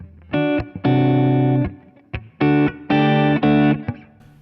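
A distorted PRS S2 Standard 22 electric guitar on its full Seymour Duncan 59 humbucker, thick and full in tone, plays a few sustained chords in short bursts, with brief pauses between them.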